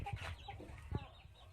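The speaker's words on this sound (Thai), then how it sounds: "พวกลูกไก่ก็กินดีครับ" Chickens and chicks cluck softly nearby in short, scattered calls while feeding, with faint rustling and pecking in the background.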